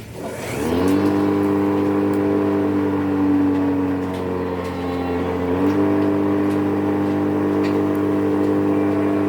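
Engine of a chopper machine on a sheep farm starts up and then runs steadily at close range, giving a loud, even, humming drone with a slight change in pitch partway through.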